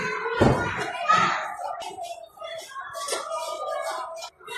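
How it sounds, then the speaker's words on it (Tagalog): A classroom door is pulled shut by a teacher at the end of the morning school session, giving a couple of close thumps amid chatter and children's voices in the background. "Sinasara lang ni teacher yung ano, yung pinto ng classroom nyo."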